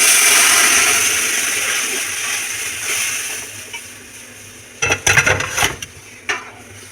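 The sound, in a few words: dal poured into pan of fried onions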